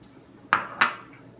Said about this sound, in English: We'll give our tea blend a good stir, just making sure that all of the herbs are incorporated throughout.